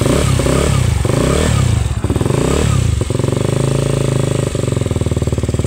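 KTM Duke 200 motorcycle engine, revived after three years sitting unused, idles loudly and steadily with a rough, pulsing beat and brief uneven stumbles.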